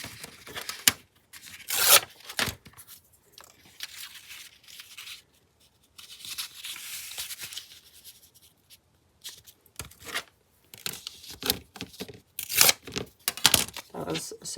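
Scissors cut through paper in short bursts of snipping and crinkling while crafting a tag book, close and intermittent with pauses between cuts.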